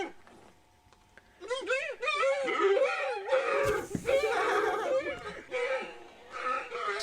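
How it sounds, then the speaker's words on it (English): Deer screaming in a pen: a run of loud, wavering high-pitched bleating cries that overlap and repeat, rising and falling like laughter, close by and continuous after a quiet start. "If you want to know what screaming deer sound like."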